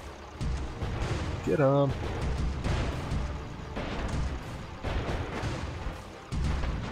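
Deck guns on an airship in Airships: Conquer the Skies fire in repeated booming volleys, heavy thuds landing every second or so beneath game noise, with a short spoken line near the start.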